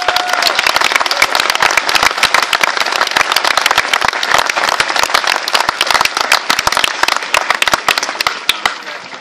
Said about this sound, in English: I think you ought to give them another round of applause.